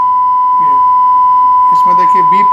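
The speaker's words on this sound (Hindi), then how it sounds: "इसमें देखिए बीप किया हुआ है हमने" A steady, loud censor beep tone runs unbroken over a protest recording, masking swearing while voices are faintly audible beneath it.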